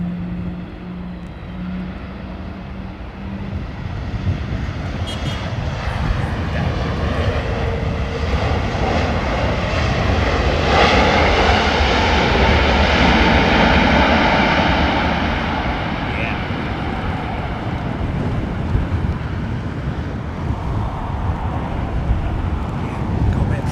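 A jet airliner landing at Heathrow in wind and rain roars as its thrust reversers open, the broad engine rumble swelling to a loud peak midway and then slowly easing, with people talking faintly underneath.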